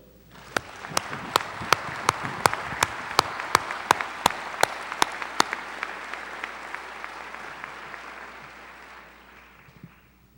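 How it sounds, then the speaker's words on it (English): A commencement ceremony crowd breaks into applause, loud and dense at first with sharp individual claps standing out, then thinning and fading away toward the end. "giving a round of applause to your parents and loved ones and friends"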